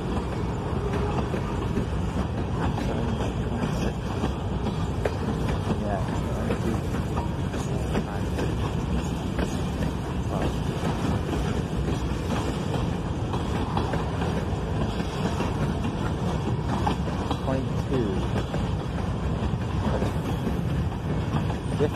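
Freight train with four boxcars at the head end rolling past at a steady loud level, a continuous rumble and rattle of wagons with faint clatter throughout and no pauses.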